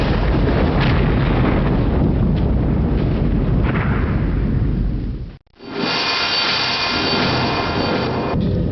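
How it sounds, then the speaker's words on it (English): A torpedo striking a submarine in the Silent Steel game, a long, loud roaring blast that cuts out sharply and then gives way to a bright, harsh rushing noise. "Torpedo continuing to close. 200. Range 150 yards. Impact in 3,"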